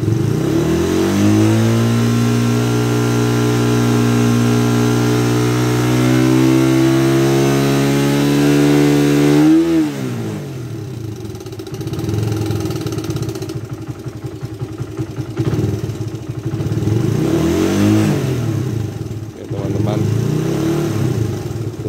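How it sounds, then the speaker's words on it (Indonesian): A Suzuki Satria FU 150 motorcycle engine warming up runs steadily with a rising drone, then drops into lumpy idling with occasional revs, close and loud. "setelah sekitar satu menit teman-teman baru boleh digas kuat teman-teman"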